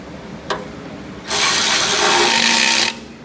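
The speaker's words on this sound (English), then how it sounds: "Use the cordless, run them in." A cordless power tool runs engine bolts in during final assembly of a 1965 Ford Mustang coupe: one brief click, then a loud, steady whirring burst of about a second and a half that stops abruptly.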